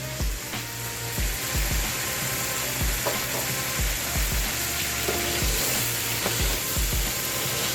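Sliced roma tomatoes sizzle and fry steadily in a hot pan of chili bolognese, with a continuous crackle and occasional scraping stirs. No one speaks.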